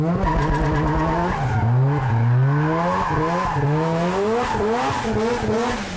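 A rotary-engined car with a Garrett T51R turbo, Turbo Smart Pro wastegate and 4-inch exhaust skids with its tyres squealing, its engine revving up and down in loud, rising and falling sweeps.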